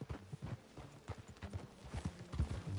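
Horse hooves clip-clop at a steady gait in the Red Dead Redemption 2 video game, faint and fairly close, with a brief whinny possible among the steps.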